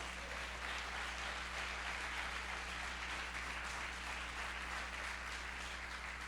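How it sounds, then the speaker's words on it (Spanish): A church congregation applauds during a sermon, a continuous soft wash of clapping over a steady low electrical hum, faint and even throughout. "Dale un aplauso al Señor"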